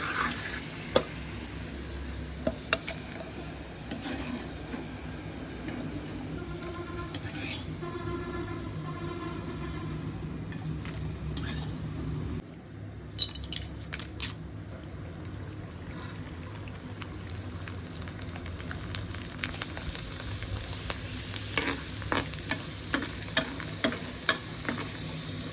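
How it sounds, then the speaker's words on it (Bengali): Potato pellets frying in hot oil, a continuous bubbling sizzle with clinks and scrapes from stirring, a brief drop partway through, then more frequent sharp taps as the frying goes on. "যেহেতু এখন তেলটা গরম আছে সেহেতু এখন খুবই তাড়াতাড়ি এগুলো ভাজা হয়ে যাবে"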